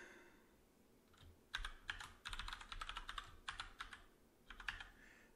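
Quiet, close clicking of a computer keyboard as a password is typed, in irregular bursts of keystrokes with brief pauses between them, no talking.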